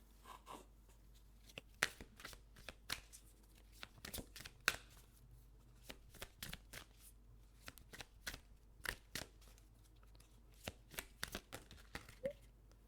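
Oracle card deck being shuffled and flipped during a November card reading, a run of quick, crisp riffling slaps and flutters close by, steady and uneven in rhythm with no talking.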